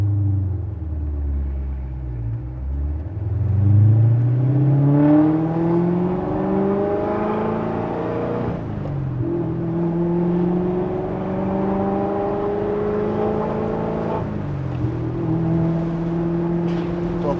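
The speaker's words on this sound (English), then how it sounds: "First gear, clutch coming out" A 2017 Corvette Z06 pulls away in first gear, its engine rising in a long climbing rev heard from inside the cabin with the windows up, then easing into a steadier drone after the gear change.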